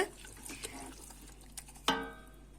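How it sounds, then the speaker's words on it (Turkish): Water is poured into a flour mixture for Erzurum-style yogurt soup, giving faint, intermittent splashing and trickling with a sharper splash near the end, quiet and close. "Şimdi yeterince kadar su koyacağız."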